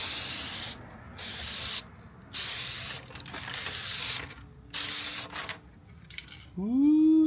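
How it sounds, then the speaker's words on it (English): Leather and vinyl spray is applied to a Triumph Bonneville motorcycle seat in five short hissing bursts, each about a second long with pauses between, close and clear, followed by a brief squeak at the end. "spray for leather, vinyl and plastics"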